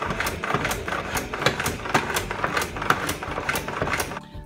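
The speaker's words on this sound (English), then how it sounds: "This is the fun part, spinning the bees." A rapid, rhythmic clattering whir repeats in quick regular pulses as bees are spun in a hand-cranked spinner turning steadily, moderately loud and close, with no talking.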